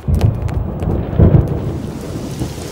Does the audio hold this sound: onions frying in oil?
no